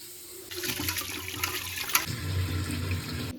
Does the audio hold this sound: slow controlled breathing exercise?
no